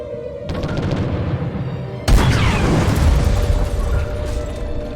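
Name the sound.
torpedoes launched in video game Treasure Planet: Battle at Procyon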